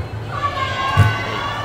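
A crowd at a Kérastase Parisian Salon event in Thailand shouts and cheers with high excited voices, a sustained roar with a brief louder burst midway.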